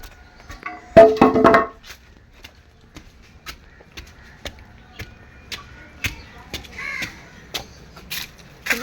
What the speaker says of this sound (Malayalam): കാക്കയ്ക്ക് ചോറ് വയ്ക്കാൻ പോവാണ് ഗൈസ്.